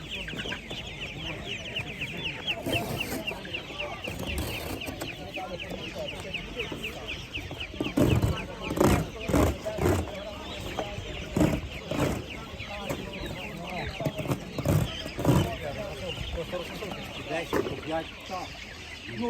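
Dense, unbroken clucking and cackling from chickens and ducks crowd an open-air livestock market in Kolomyia, Ukraine, while bursts of nearby conversation rise over the flock's noise.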